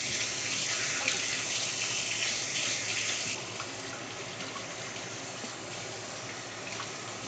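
Fresh garden-grown mint leaves are rinsed under a running kitchen tap, giving a steady, close broadband rush of water that stays even throughout, softening slightly partway as the flow shifts over the leaves.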